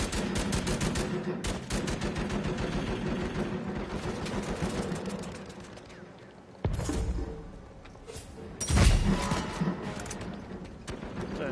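Gunfire in the video game Uncharted crackles in dense, continuous volleys, briefly easing before two heavier blasts break through, all fairly close and loud.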